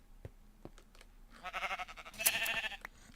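Sheep bleat in the Minecraft video game, a couple of wavering cries rising over faint clicks and soft game background, moderately close.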